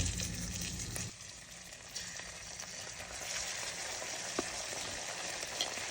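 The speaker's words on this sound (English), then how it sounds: "now we want to start to stir this up, soften up the tomatoes" Garlic, ginger and tomatoes frying and being stirred in a pan, a steady broadband sizzle that dips briefly after the first second, with a few soft scraping stir sounds and no talking.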